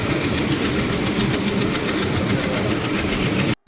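A passenger train pulling into Burdwan Junction gives a loud, steady rumble with rhythmic wheel clatter, without voices, stopping abruptly just before the end.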